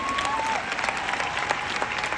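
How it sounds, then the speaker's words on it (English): An audience gives a round of applause, a dense, even wash of many hands clapping at moderate distance, steady for the whole stretch with a thin tone sliding underneath at the start. "Give yourself a round of applause."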